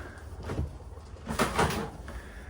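A door in an old abandoned trailer bumps and clatters a few times, with a louder knock near the middle, over quiet room noise and no talk.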